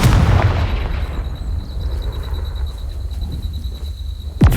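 A Confringo fire spell explodes in Hogwarts Legacy, a loud boom with rumbling low end and a bright sustained tone fading over several seconds, ending with a sharp whoosh.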